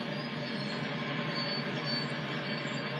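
A simulated train in Train Sim World 2020 on the West Somerset railway rolls along with a steady rumble and a faint high wheel squeal, continuous and even for the whole moment.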